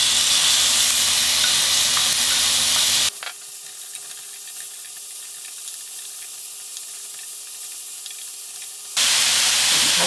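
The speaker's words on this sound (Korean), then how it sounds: "감자를 먼저 볶아줘요." Potatoes stir-frying with seasoning sauce in a pan give off a loud, steady sizzle that drops abruptly to a quieter hiss for several seconds before the full sizzle returns, close and without talk.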